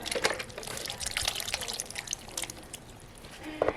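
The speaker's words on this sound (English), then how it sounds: "So you're gonna add some beef broth." Beef broth pours into a pot of oxtail and vegetables, giving a soft, uneven liquid splashing and trickling that stays fairly quiet and close, with a brief louder splash near the end.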